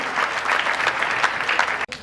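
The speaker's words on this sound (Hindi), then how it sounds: "थोड़ी अच्छी तालियां बजा रहे हैं, अपने लिए बजानी है।" An indoor workshop audience claps loudly and steadily for about two seconds, a dense wash of many hands that cuts off abruptly near the end.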